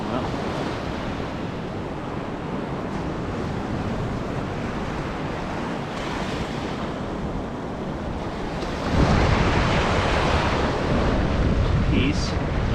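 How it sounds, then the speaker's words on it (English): Surf washing up onto Navarre Beach, Florida, at night: a continuous close roar of breaking waves and wind noise, swelling louder near the end as water rushes in. "Oh, water's coming up."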